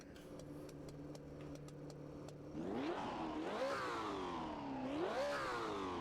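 Race car engine revving hard in the Assetto Corsa racing game, a flat-six derived from an F1 engine, with crackling exhaust pops; a steady idle drone breaks into rising and falling revs, clear and unaccompanied by talk.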